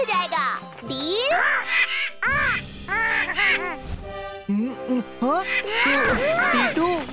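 A cartoon character's voice mimics crow caws, a string of nasal, bending cries in quick bursts with short pauses between, loud and close, sometimes overlapping other chatter.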